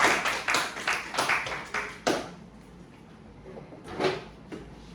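Scattered applause from a church congregation during a Korean Baptist service, a handful of sharp claps over about two seconds before it trails off into quiet room tone with a few faint taps.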